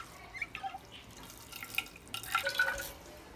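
Soaked seffa dough being wrung out by hand, with water dripping and trickling in short irregular bursts, faint and close, growing a little busier toward the end.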